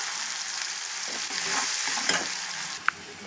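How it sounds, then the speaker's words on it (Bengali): A medium onion, diced, fries in hot oil with a steady close sizzle. Occasional stirring scrapes and a light tap break the continuous hiss. No voices. "ওই তেলের মধ্যে আমি ডুমো ডুমো করে একটা মিডিয়াম সাইজের পেঁয়াজ কুচি করে রেখেছিলাম, ওটা ভাজতে দিয়ে দিলাম"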